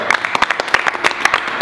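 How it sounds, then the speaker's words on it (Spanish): A few people clap briefly in a sharp, irregular burst of close, distinct hand claps, marking the end of a kayaking adventure among the Lofoten fjords in the Arctic. "O sea que eso se merece un aplauso."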